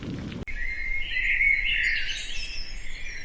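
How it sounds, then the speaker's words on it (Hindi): Morning birdsong in a small Indian village: a sustained, bright twittering chorus that begins after a brief abrupt cut and fills the clip steadily at moderate loudness. "जहां सुबह किसी अलार्म से नहीं बल्कि चिड़ियों की मीठी चहचहाहट से होती थी"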